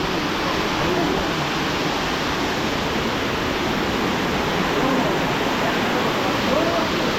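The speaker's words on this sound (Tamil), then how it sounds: "இன்னொரு ஃபால்ஸுக்கு வந்திருக்கிறோம்" Waterfall near Munnar roaring as a dense, constant wash of rushing water, loud and close, filling the whole stretch without pause.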